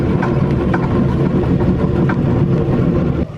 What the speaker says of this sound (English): Stop to clear the engine a little bit.